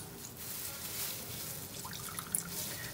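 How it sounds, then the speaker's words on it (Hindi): Falsa fruit juice squeezed by hand through cheesecloth, dripping and trickling steadily into a container below, close and fairly quiet with a soft wet hiss. "इसको आप स्क्वीज़ करते जाएंगे तो इसका जूस निकलता जाएगा"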